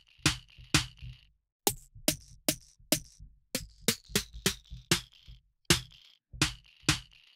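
Sharp, crisp snare drum hits made from toys with short bright shaker bursts form an uneven rhythmic pattern, with brief gaps between groups of strikes.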